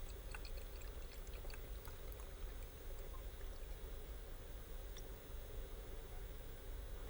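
Water pours steadily into a glass beaker, filled to 150 millilitres, a continuous gurgling splash with small bright drips, fairly quiet and close.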